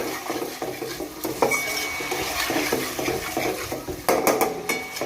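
Steady scraping and rasping of a utensil stirring milk cream in a pan to make ghee, with small metallic clinks and a few sharper knocks toward the end, close and continuous.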